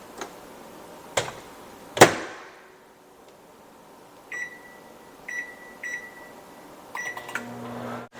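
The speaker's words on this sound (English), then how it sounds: "So now we've got our potato in the microwave for 5 minutes." A microwave oven is set on high for five minutes to cook a potato: a sharp clack of the door, then a series of short, high keypad beeps, some single and some in quick pairs, over a faint background hum.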